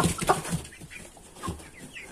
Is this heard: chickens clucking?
yes